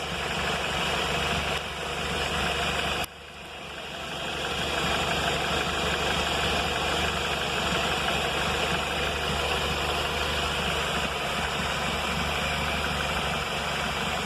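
A 2008-2011 Ford Focus engine idles steadily and evenly up close, a constant low hum with a brief dip in level partway through, no voices.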